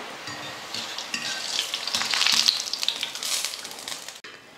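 Boondi batter drops sizzle and crackle steadily in hot oil while being stirred for laddu, a bright continuous frying hiss that swells midway, with faint low clinks of a ladle early on.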